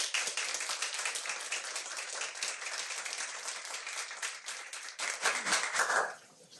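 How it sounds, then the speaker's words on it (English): Audience at a school board meeting applauding a student literature winner: steady, dense clapping from a room of people, fairly even throughout, then tapering off at the end. "Let's give Tessa a big round of applause"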